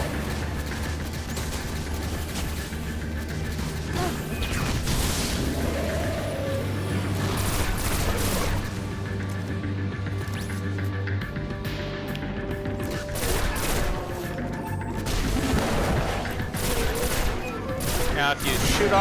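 Gunfire in the Destiny video game comes in rapid bursts and volleys, mixed with booms and crashes over a game soundtrack.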